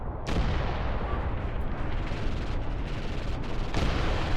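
Artillery fire in the war game Graviteam Tactics rumbles as a dense, continuous barrage, loud and heavy throughout with a sharp onset and occasional stronger blasts.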